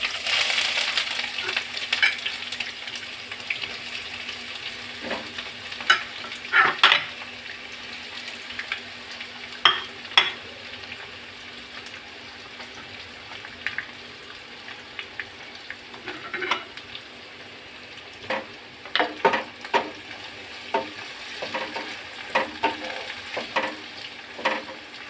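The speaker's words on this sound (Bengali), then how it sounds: "ভাজা হয়ে গেলে দিয়ে দিচ্ছি পেঁয়াজ কুচি।" Chopped onions fry in hot oil with cardamom, cinnamon and bay leaf, a steady broadband sizzle broken by frequent scraping strokes of a stirring spoon against the pan, close and fairly loud, with no voices.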